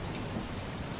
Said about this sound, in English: Rain lashed against the windows, and the wind howled through the halls.